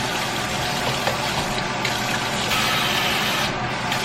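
Tap water runs steadily while bell peppers are washed under it, a continuous near gush and splash that holds at an even level throughout.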